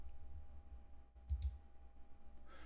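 Computer mouse clicks while operating SDRconnect software: two faint, close-together clicks over a low steady hum, with no speech.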